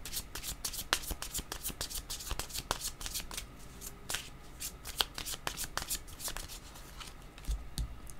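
Yellow game cards being shuffled, a steady run of quick papery riffles and flicks that carries on throughout with no talk.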